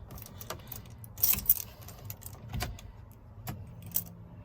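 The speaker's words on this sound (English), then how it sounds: "Let's turn the ignition on." Keys jangling and an ignition key turning in a Chevy K30 truck, a few close metallic clinks and rattles with brief clicks, quiet cab otherwise and no talking.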